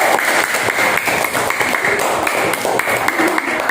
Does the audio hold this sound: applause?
yes